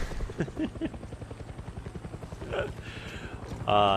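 Helicopter in the video game Far Cry 6, its rotor thumping as a steady rapid pulse throughout, with voices cutting in near the end and a brief loud engine swell at the close.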